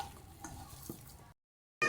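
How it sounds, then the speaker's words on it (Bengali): Bottle gourd greens cooking with a fish head give off a low, steady sizzle and a few stirring scrapes for just over a second, then stop abruptly before a brief loud burst. "এই যে লাউ শাক রান্না করতেছি"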